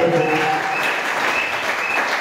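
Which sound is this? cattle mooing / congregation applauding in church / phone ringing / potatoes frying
congregation applauding in church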